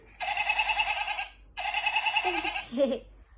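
A goat bleats twice in long, quavering calls, close by, with a brief lower bleat trailing after the second.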